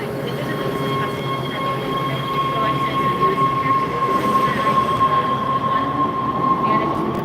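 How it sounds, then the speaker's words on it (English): A subway train pulls into a station, a steady loud rumble of rolling cars with a sustained high metallic wheel squeal running throughout, close and continuous. "Help them catch this train."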